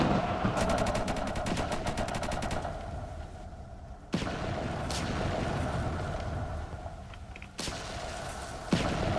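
Video game combat brings rapid machine-gun bursts and gunfire rattling over a steady low rumble, with several sharp booming blasts punctuating the barrage.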